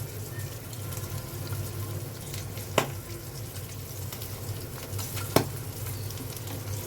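Fried rice with soy sauce sizzles steadily as it is stir-fried in a pan, with a constant crackling hiss and two sharp clinks of the spatula against the pan.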